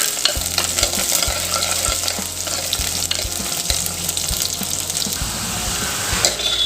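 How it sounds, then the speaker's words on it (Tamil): Sliced onions, garlic and curry leaves sauté in hot oil for a Tamil fish curry, sizzling steadily while a spoon stirs and scrapes the pan in repeated strokes, with no talking. "இப்போ இதை நம்ம நல்லா வதக்கி கொடுத்துக்கலாங்க."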